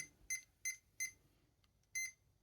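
Short electronic beeps from a Hobbywing QuicRun WP 1080 G2 brushed ESC in programming mode, three evenly spaced tones followed by a slightly longer fourth after a pause, thin and clear over a quiet background.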